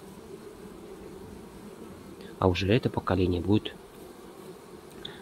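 Honeybees swarm around a hive during the main honey flow, a steady close insect buzz and hum that continues throughout while someone speaks briefly over it.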